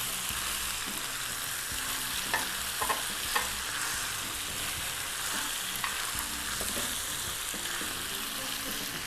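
Peppers hit a hot pan for Cajun jambalaya pasta and are stirred, giving a steady broadband sizzle with a few sharp utensil scrapes and clicks around the middle, close and continuous with no talking.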